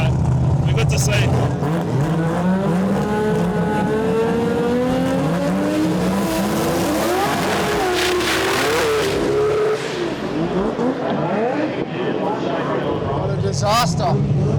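Two rotary-engine cars launching side by side down a drag strip at a jamboree event, a loud sustained buzzing roar with rising and falling engine pitch sweeps and a brief tire chirp, under excited commentary from onlookers.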